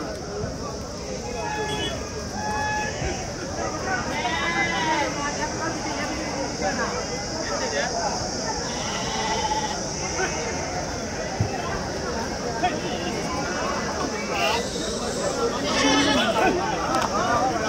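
Sheep bleat repeatedly at a crowded outdoor livestock market in Angallu, many overlapping bleats from a large flock, with people talking constantly around them.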